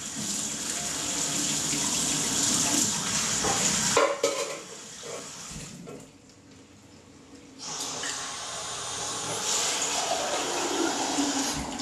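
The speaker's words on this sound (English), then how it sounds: "run some warm water," Warm water runs from a tap into a glass with a few drops of dishwashing detergent, a close steady rush that stops briefly midway, goes quiet, then resumes just as strongly.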